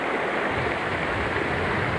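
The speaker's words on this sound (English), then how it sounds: "It's the sound of the waves surging through the first floor of the house" Storm surge waves from a hurricane surging through the first floor of a house, a dense, continuous roaring wash of water, loud and unbroken, with no voices.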